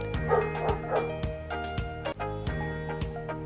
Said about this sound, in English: Sorry about my dog. He's going crazy.